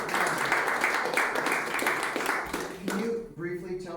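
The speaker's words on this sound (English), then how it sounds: "Let's give Anna a round of applause" A room full of people applauding, dense steady clapping that fades out as a voice begins speaking near the end.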